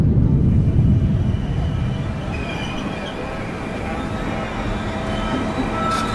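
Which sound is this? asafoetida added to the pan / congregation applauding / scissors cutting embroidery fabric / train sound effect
train sound effect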